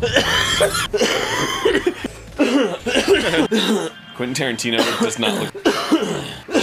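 Coughing breaks out among lively talk and laughter from several people in a casual gaming-commentary chat, with the coughs mixed closely into the voices rather than standing alone.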